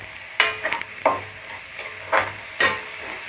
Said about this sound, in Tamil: கிளறி விட்டுப்போம்.